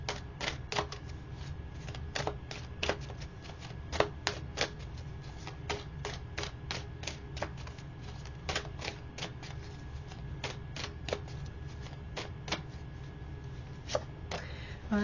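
Tarot cards being shuffled and pulled, giving a steady run of quick, crisp card snaps and flicks close to the microphone over a low background hum.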